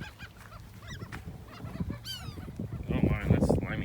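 Galveston seagulls being fed call repeatedly with sharp, rising squawks over a busy mix of birds and background noise, growing louder and more crowded toward the end.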